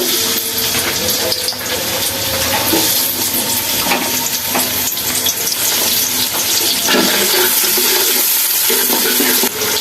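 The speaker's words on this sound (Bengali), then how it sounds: "এবার পাতিলের মধ্যে দিয়ে দিচ্ছি তেল পেঁয়াজ কুচি" Chopped onion fries in oil in a pot while beef biryani is being cooked, giving a loud, dense, steady sizzle and crackle throughout with occasional stirring scrapes and no talking.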